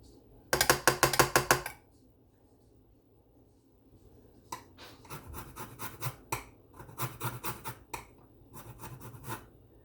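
Lemon rind rubbed against a grater for zest, heard as close, rapid raspy scraping strokes in several bursts separated by quiet pauses.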